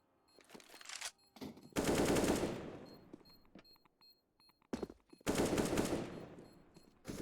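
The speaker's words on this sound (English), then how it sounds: "Firing through the smoke." Gunfire fired through smoke in a Counter-Strike match: two long loud bursts of automatic fire, with short single shots and quiet gaps between them.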